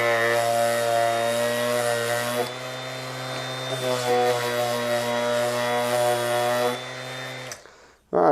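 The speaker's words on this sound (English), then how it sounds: "All right, a little light sanding" Cordless electric sander running steadily for about seven seconds at close range, a smooth motor whine with a constant drone, doing light sanding in a woodworking shop, then cutting off abruptly near the end.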